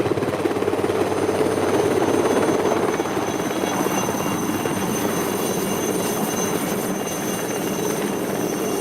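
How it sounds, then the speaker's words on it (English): A helicopter flies close by, its rotor and engine making a loud, steady drone with a pulsing beat that holds without a break from start to finish. "Watching that helicopter is almost hypnotic, and it's all because of the vortices at the end of its blades."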